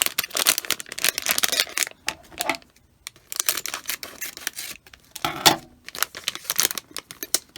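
Packaging for a Hasbro Blythe figurine is torn and opened up close, giving loud, irregular bursts of crinkling and rustling separated by short pauses.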